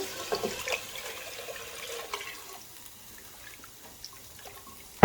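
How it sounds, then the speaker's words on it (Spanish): Hot boiling water poured into a pot of cheese minestrone with potatoes and carrots, a brief splashing gush at first that settles into quieter trickling and faint liquid sounds. "ahora sí, vamos a agregar el agua hirviendo"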